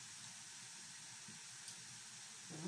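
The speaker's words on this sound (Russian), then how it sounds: "Чайничек закипает." An electric kettle heating water toward a boil in a home kitchen, giving a steady soft hiss and faint rumbling bubbles that swell near the end.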